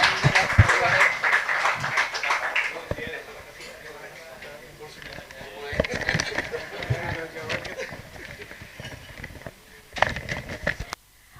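Audience applause for a speaker at a journalism roadshow event in Tangerang Selatan, a dense burst of clapping that fades after a few seconds, then swells again briefly near the end, with scattered voices in the room.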